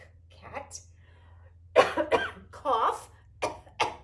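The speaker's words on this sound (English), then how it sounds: "cough" A person coughs a few times in quick bursts, close and fairly loud, the fits broken up by short gaps and mixed with some throat noise against a quiet background.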